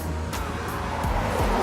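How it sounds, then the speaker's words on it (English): A small car drives past outdoors, a brief rising-and-falling engine and tyre swish over steady background noise, moderately close. "That is a tiny car."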